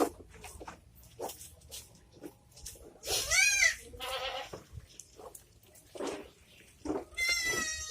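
A goat in a pen on a family farm, recently having given birth, lets out a couple of loud wavering bleats among scattered quieter animal cries and shuffling, close to the listener.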